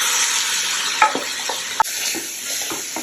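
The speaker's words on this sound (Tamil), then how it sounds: "தக்காளி, இஞ்சி, பூண்டு, பச்சை மிளகாய் அரைச்சி வச்சோம்ல அந்த விழுதை வந்து சேர்க்கணும்" A ground paste of tomato, ginger, garlic and green chili sizzles in a pan for pav bhaji, a close steady hiss punctuated by a few sharp clicks and scrapes of a spoon, with no speech.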